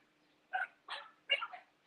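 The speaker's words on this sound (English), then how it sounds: "we actually have a big load of puppies on board today" Puppies let out four short yips and whimpers close by, each burst separated by a brief pause against a quiet background.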